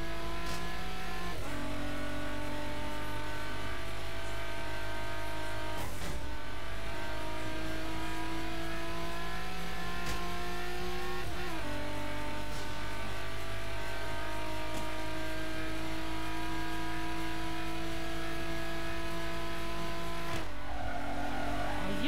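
Car in Fast & Furious Showdown accelerating hard through a Mexico race, loud continuous engine roar climbing in pitch with repeated gear shifts every few seconds, close and dense throughout.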